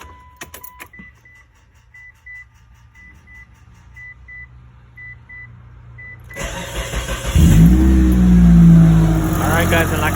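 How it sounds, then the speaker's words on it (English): A 4G Mitsubishi Eclipse, worked on for a PCV valve test, is started after a door-ajar chime: a brief crank, then the engine catches and settles into a loud, steady idle close by. "Now I'm gonna go start the car."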